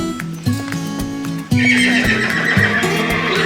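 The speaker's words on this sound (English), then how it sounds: "So now we're gonna ride a horse" A horse neighs loudly up close while hooves clip-clop in a steady rhythm underneath, during a ride in a German village in winter.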